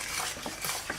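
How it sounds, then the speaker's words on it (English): A Dobos cake mixture is stirred in a pot over medium heat: steady, close scraping and swishing of a spoon against the pot, continuous and even, with no voices. "Now I'll mix it for a few minutes"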